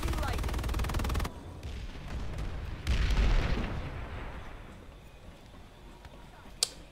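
Planetside 2 combat roars with rapid automatic gunfire and heavy explosions, a thick barrage that cuts off, then a big blast swells and rumbles before dying down to a few scattered shots and a final sharp crack.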